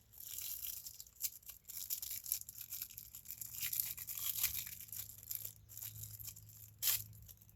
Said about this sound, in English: put some of the plumber's tape on there too, just to make sure it doesn't leak from there